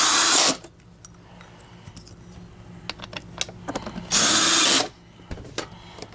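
A power screwdriver removes screws from a Miele H1 S194 Quick Step upright vacuum. Two loud, whirring bursts at the start and near the end frame quieter clicks and rattles of handling parts.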